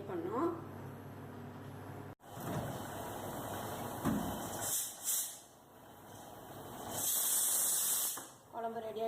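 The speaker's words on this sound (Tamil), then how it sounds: "குக்கர் கூட விசில் வந்துச்சு." A pressure cooker whistles, letting out bursts of hissing steam. The hiss swells twice and fades, and a person speaks in the background.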